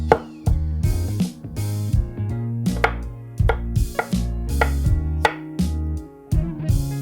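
Repeated knife chops on a cutting board, steady and close, cutting firm raw butternut squash into cubes with short pauses between strokes.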